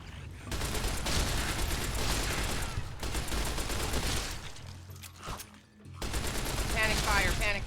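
Repeated bursts of Fallout: New Vegas gunfire rattle in clusters, briefly dropping off near the end before rising again. Voices can be heard between the volleys.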